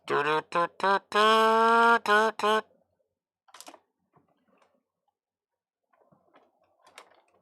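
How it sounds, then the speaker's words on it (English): An electric kazoo played unplugged, a buzzy nasal series of short tooted notes and one longer held note up close, followed by quiet with faint clicks and handling noises. "Electric kazoo."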